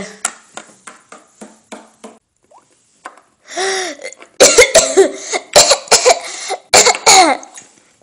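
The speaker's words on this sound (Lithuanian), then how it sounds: "tu tik kosėji" A burst of dry coughs, then a voice with a gasp and several harsh, rapid coughs in close succession, loud and near; the girl is sick with a fever.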